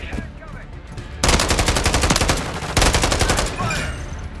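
Loud automatic gunfire in a firefight on the Terminal level of Call of Duty: Modern Warfare 3 comes in two long, tightly pulsing bursts, with quieter combat noise and shouted voices between them.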